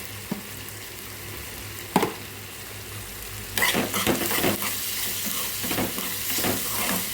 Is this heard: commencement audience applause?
no